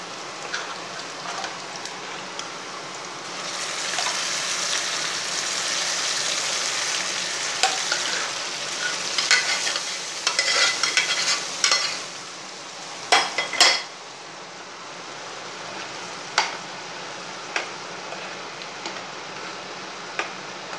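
Onions sizzling and frying steadily in hot oil for a Tamil green gram gravy, a continuous crackling hiss with occasional sharper clinks of a spoon stirring the pan, no voices.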